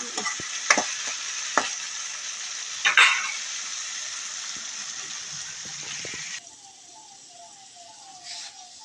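Spice tempering sizzles loudly and steadily in a pan for a potato dosa filling, with sharp crackles and pops in the first seconds, then the frying settles to a quieter hiss. Faint speech is heard near the end.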